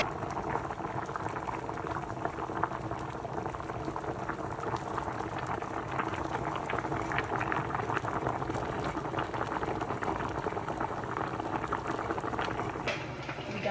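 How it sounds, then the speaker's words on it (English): Plantains boil in a pot for Dominican mangu, a steady, close bubbling and simmering that runs without a break for the whole stretch, with no voices over it. "The plantains are nice boiling over there."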